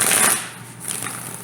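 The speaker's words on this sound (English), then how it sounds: "So let me get this one more shuffle." Soft riffling of playing cards being shuffled close by, a quick burst at the start followed by quieter fluttering, with no voices.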